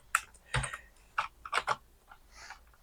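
Python code is typed on a computer keyboard, a short run of crisp, close key clicks in uneven bursts of about six strokes, with no talking.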